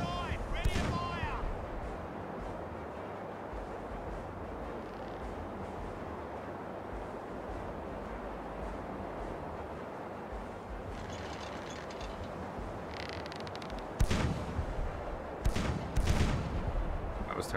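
Ship cannons firing a broadside in Caribbean Legend: a sustained low rumble of sea and ship ambience, then several sharp booming shots near the end, with someone speaking early on.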